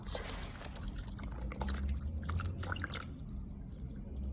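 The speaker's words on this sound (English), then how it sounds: "I'll add some water into the pot." Water is poured into a pressure cooker pot, a short, faint splashing and dripping trickle heard close up.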